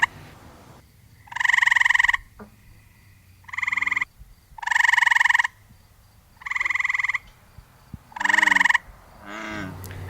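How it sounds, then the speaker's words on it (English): Gray tree frogs call from willow branches over water in Connecticut, five loud, close trills in a regular rhythm, each lasting about a second, separated by short pauses, with another frog answering faintly at the end. "We look above the water and we see gray tree frogs perched in the willow branches."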